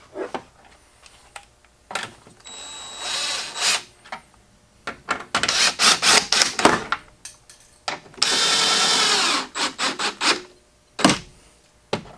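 A cordless power tool drives bolts back in while a Jeep Gladiator Mojave LED headlight is installed, giving several short whirring bursts separated by pauses and light handling clicks and rattles, close by.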